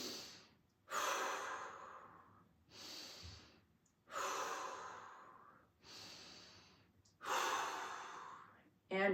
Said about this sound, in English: And then we're going to breathe.